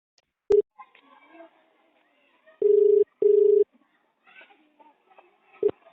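A phone call being placed: a few short tone beeps, then two sustained ringback tones with a brief gap between them, and faint, quiet voices and movement in between.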